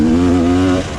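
A Rieju 300 motorcycle engine revs hard during a ride, a loud, close, throaty drone that holds for most of a second before easing off.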